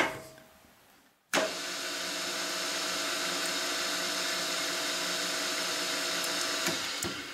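A machine taps threads into small steel sine bar parts. After a quiet start its motor cuts in abruptly with a loud, steady whining drone that holds for several seconds, then ends with a short clack.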